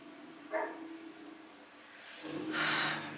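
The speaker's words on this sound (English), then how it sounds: "My neighbor's got a new dog and they leave that poor guy outside all day and night." A neighbor's new dog kept outside gives a couple of distant, muffled barks and whimpering sounds, faint and spaced apart, with no talking.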